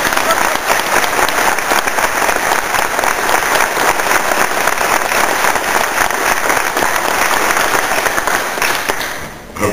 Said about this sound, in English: you have to applaud very loudly for the City Manager